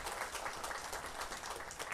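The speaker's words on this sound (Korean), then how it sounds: "박수 한번 해주시고요" A church audience claps together in a faint but continuous patter of many hands, dense and even throughout.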